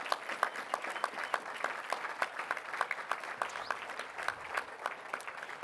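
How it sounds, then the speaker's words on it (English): Audience applause for award recipients at a university alumni awards ceremony, a steady even patter of many hands clapping together, somewhat distant and sustained with no voices over it. "So let's give them one more round of applause."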